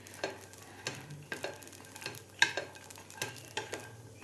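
Guar cluster beans roast in a hot pan until blistered, giving a soft continuous sizzle broken by repeated scraping stir strokes of a spatula, close and fairly quiet.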